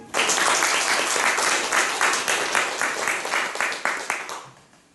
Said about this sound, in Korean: 다시 한번 힘찬 박수.